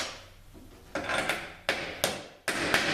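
Several sharp hammer blows drive a bushing into a ZF6HP19 automatic transmission, about five metallic strikes in an irregular rhythm, close and fairly loud with ringing decay between hits.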